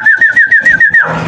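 A young pigeon gives a run of about eight short, rising whistled calls in quick, even rhythm, close and loud, ending in a brief burst of flapping or rustle.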